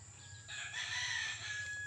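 A rooster crows once, a drawn-out cock-a-doodle-doo heard fairly clearly over a faint low background hum, with no talk.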